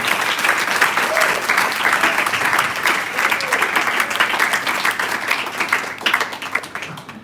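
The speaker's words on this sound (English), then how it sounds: "Give a big clap about this video." Applause from an audience at a Guru Poornima celebration, a steady wash of many hands clapping throughout, dense and fairly loud.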